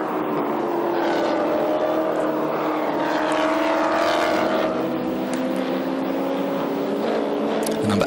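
Chevrolet Lumina V8 race cars lap the Bahrain circuit in a Middle East championship round, a steady loud engine drone with shifting pitch running throughout beneath a commentator's continuous talk.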